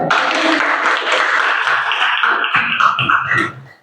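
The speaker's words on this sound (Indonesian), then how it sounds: "tepuk tangan, enggak apa-apa" Students in a classroom applaud a presenting group, a short, loud burst of many hands clapping together that fades out near the end with a few voices.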